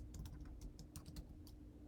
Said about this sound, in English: now when I type git add